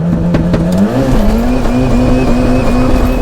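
A 520 hp Ford Sierra RS500 and a 560 hp Toyota Supra race side by side in a drag race, engines droning loud and steady with a rising pitch as they pull hard, plus a brief tyre squeal at the start.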